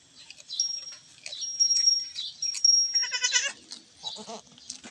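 A newborn-season goat at a farm bleats several times in close succession, loud and nasal, with high chirping birds in the background.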